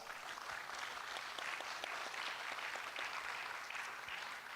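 Steady audience applause for conference panelists at a plenary session, a dense even patter of many hands sustained throughout, moderately distant and fairly quiet.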